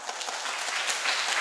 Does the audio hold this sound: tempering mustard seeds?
no